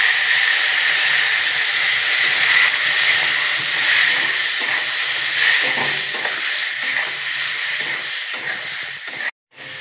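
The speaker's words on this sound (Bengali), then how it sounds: "সামান্য জল দিয়ে কষে নেব।" Spices and vegetables sizzle steadily in a pan after a splash of water, turmeric, chili and cumin powders cooked down for a mustard greens chorchori, a loud continuous hiss with no talking.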